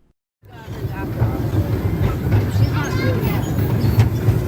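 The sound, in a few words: amusement park train ride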